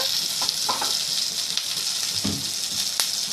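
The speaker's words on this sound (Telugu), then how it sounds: "పచ్చిమిరపకాయలు వేగిపోతాయి కదండి" Green chillies fry in hot oil with a steady, close hiss of sizzling, punctuated by a few soft clinks and stirs; no one speaks.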